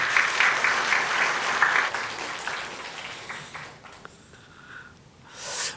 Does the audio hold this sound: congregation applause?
yes